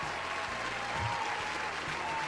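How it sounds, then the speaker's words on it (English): Short burst of steady studio audience applause after a Jeopardy-style podcast quiz round, even clapping alone over a faint low hum. "Let's have a round of applause."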